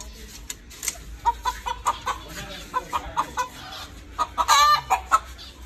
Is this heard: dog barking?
no